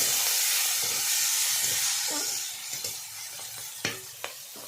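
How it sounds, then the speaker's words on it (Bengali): Prawns fry in hot oil in a pan, a bright hissing sizzle that fades somewhat midway, with a few sharp utensil taps and clinks toward the end, close by. "চিংড়ি মাছগুলো ভালো করে ভেজে নেব।"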